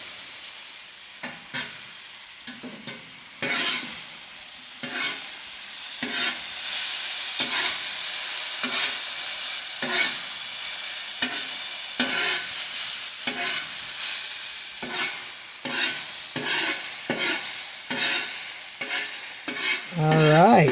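Mushrooms sauté in a pan, cooked lightly so they keep some firmness, alongside ribeye steak, mashed potatoes and asparagus. A steady, close sizzle and frying hiss runs throughout, broken by repeated scraping stir strokes, with no talking.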